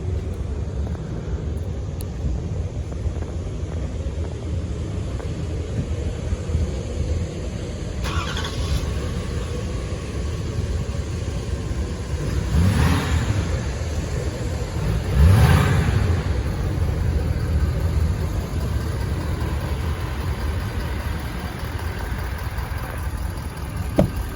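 A 6.7-litre diesel engine in a 2022 Ford F-250 Super Duty pickup cold starts and idles with a steady low rumble, revving up twice in short bursts before settling back to idle.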